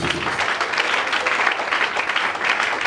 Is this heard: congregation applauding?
yes